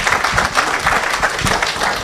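Conference delegates applauding at a stakeholder conference, a close, dense burst of many hands clapping at steady loudness throughout.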